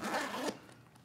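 A zipper on a Brevite Jumper camera backpack is pulled in one quick, close, loud rasping run lasting about half a second, then cuts off into quiet.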